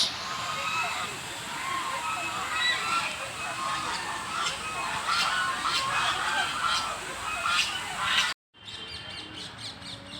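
Ducks quack and call in a noisy, busy flock outdoors at Lodhi Garden, with splashing water and a steady wash of background noise throughout.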